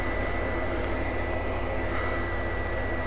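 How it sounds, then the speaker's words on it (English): A steady, loud jet-engine-like roar from the video game The Forest, a constant broadband rumble that holds unchanged throughout with no breaks. "sounds like a jet engine"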